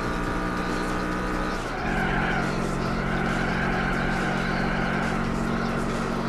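Shelby Cobra race car in Gran Turismo 4 at full throttle: a loud, sustained engine roar that drops briefly on a gear shift and then holds a steady high drone, with faint tire noise.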